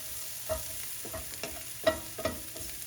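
Beef stroganoff cooking in a pan, a soft steady sizzle broken by a few light scrapes and clinks from a utensil.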